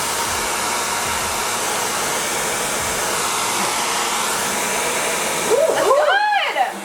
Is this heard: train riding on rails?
no